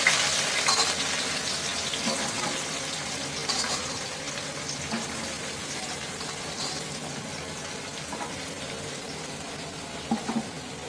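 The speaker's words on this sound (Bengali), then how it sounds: "পেঁয়াজটা ভাজা ভাজা হয়ে গেছে" Onions fry in a pan before ginger, garlic and fish are added, giving a continuous moderate sizzle with faint stirring clinks and no voices.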